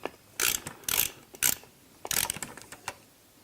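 Bolts being tightened on a bow-mount trolling motor, a series of sharp ratchet clicking bursts, about six quick close runs separated by short pauses.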